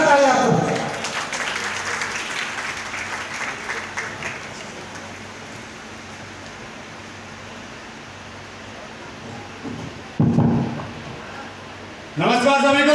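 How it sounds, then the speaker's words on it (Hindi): Audience applause at a motivational stage event in Jaipur, with a steady wash of clapping filling most of the stretch after a speaker's voice and before a new speaker begins. "जोरदार तालियां आप सबको।"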